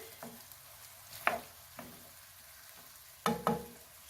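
Celery dropped into a hot pan for keto kung pao chicken, sizzling and frying with a low steady hiss, broken by a few sharp stirring clatters, nearby and moderately loud.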